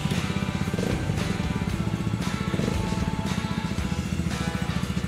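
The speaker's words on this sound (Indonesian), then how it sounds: "Nah, mesinnya udah nyala ya." A Honda CBR150R motorcycle engine idling close by, a steady rapid pulsing rumble that holds evenly throughout with no speech.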